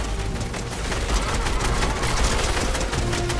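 Continuous dense gunfire in a Fortnite live event battle, a steady loud rattle of rapid shots with no pauses and no voices.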